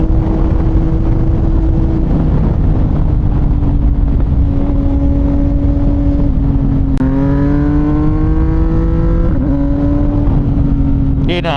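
A CFMOTO 675NK SR motorcycle fitted with a titanium full-system exhaust runs steadily while riding, its engine drone rising in pitch through a gear shift and holding loud and near throughout.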